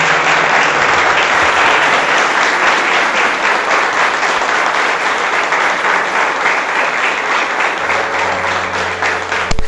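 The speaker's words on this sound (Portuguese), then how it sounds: "Dá um aplauso forte ao Rei da Glória" A church congregation gives loud, sustained applause at a thanksgiving service marking the Cristo Centro Caieiras anniversary. Dense clapping fills the whole stretch, with faint tonal notes entering near the end.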